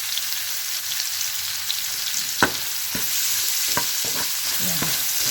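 Green onion leaves sautéing in a pan for Baguio beans give a steady, close sizzle and fry, with a few sharp clicks and scrapes of a utensil stirring partway through.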